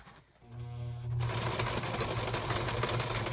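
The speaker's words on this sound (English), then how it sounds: "It is sewing." A sewing machine stitches a junk journal project, its motor humming steadily and growing louder after a brief ramp-up, running continuously and close by with no talk.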